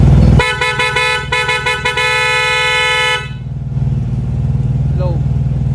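A Yamaha TMAX 560 scooter horn honks in a quick run of short bursts, then one longer blast, loud and close, followed by an idling engine.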